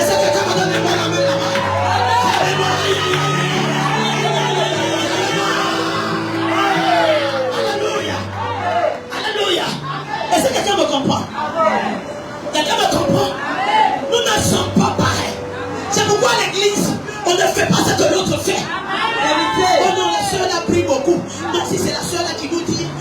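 Audience at a Dorcas mothers' church conference cheers and acclaims, a loud, sustained crowd roar with whoops and shouting that swells and pulses, mixed with music and a voice over it.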